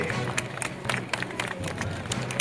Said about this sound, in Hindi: जरा महिलाएं सब खड़ी होकर एक बार तालियों के बीच में जोरदार तालियां बजाइए